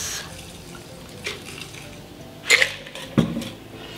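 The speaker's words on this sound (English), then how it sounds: "We're going to strain this into our glass." Shaken cocktail strained from a tin into a glass: a soft pour and trickle of liquid, then a few sharp clinks of ice and metal near the end, close and fairly quiet.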